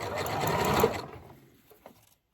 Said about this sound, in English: So thumb underneath, finger on top, pull, hold, sew.